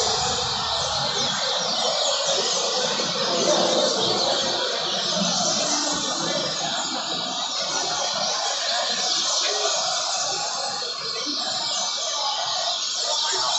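An azulão songbird at a bird song contest in João Pessoa, Paraíba: a dense chorus of birdsong, with many competing birds filling the air continuously alongside steady background noise.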